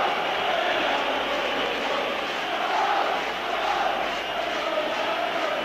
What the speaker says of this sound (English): So the noise building up again among the Rangers supporters.